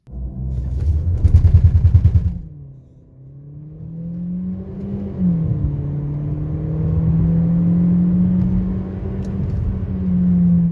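A 2019 Mercedes CLA200 with 163 hp accelerating from 0 to 100 km/h: a loud engine roar rises in pitch, dips at a gear change, then climbs steadily again under a constant rumble; no talking.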